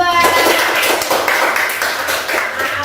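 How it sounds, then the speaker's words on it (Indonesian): A small group, such as a class, gives a short round of clapping for a student team after its project. The claps are close and fairly loud, and voices can be heard over them. "Tepuk tangan buat kelompok 2."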